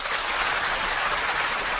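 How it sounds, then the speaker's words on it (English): Steady, dense applause for a retiring football cornerback, a continuous wash of clapping with no breaks and no voices over it. "give him a round of applause for the great career he had"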